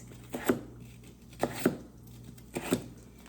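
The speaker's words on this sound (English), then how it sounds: "I just keep it right in there and continue the chopping process." A knife chops bell pepper on a cutting board at home, giving three quick pairs of crisp, close taps spaced evenly apart, with quiet room tone between them.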